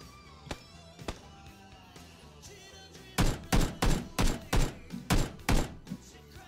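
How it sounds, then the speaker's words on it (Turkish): Gunfire in PUBG from a shooter at a window, beginning with a few scattered distant shots and followed by a rapid, evenly spaced burst of about nine loud, close rounds. "Pencereden sıkıyor sana."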